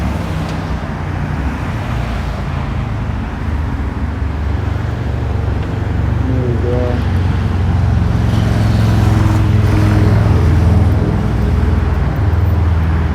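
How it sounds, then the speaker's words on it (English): Street traffic in Burbank, Los Angeles at sunset, a steady loud roar of cars rolling past up close that swells as vehicles go by, with a brief spoken remark. "Let's pause for some traffic."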